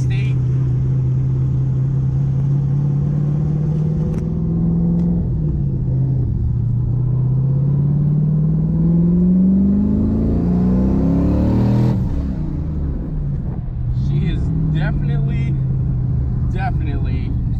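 A 2008 Ford Mustang GT engine revs hard and steadily on a dyno, pitch climbing through a long pull before dropping off, then idling with faint clicks, loud and close.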